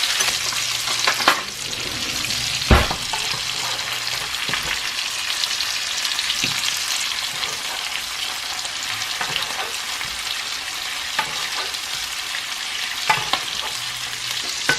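Rainbow trout fillets frying in butter in a pan, a continuous close hiss and crackle with occasional clacks of a utensil against the pan, loud and steady throughout without speech.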